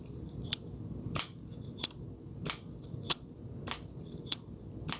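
The blade of a CIVIVI folding knife is snapped open and shut repeatedly, giving about eight crisp, close metallic clicks at a steady rhythm over a faint background hum.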